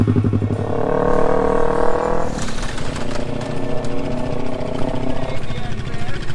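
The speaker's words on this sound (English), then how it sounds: "You hear the ABS kicking in." A motorcycle in a 55 mph quick stop, its ABS kicking in, with a loud engine roar that changes abruptly partway through into a rapid pulsing chatter. It is close and continuous, with possible wind or voice mixed in.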